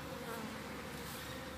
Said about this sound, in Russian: Слышите, сколько пчелы.